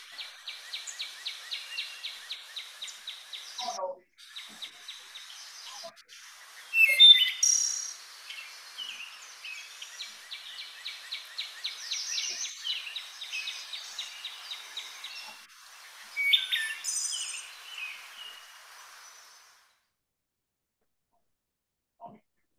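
Several birds sing and chirp outdoors in a steady, busy chorus of repeated high trills and calls, moderately near, with a few louder bursts and a brief low voice, fading out near the end.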